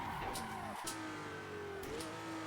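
An open-wheel race car in a Detroit Belle Isle time-attack racing game holds a steady engine drone while braking hard, with faint tire scrub and a pitch drop partway through; no talking.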